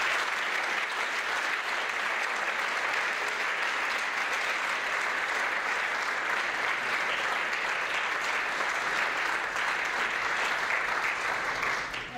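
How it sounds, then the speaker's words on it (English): A lecture audience gives a sustained round of applause, many hands clapping in a steady, full wash that holds for about twelve seconds before tapering off at the very end. "let's go ahead and give them a round of applause."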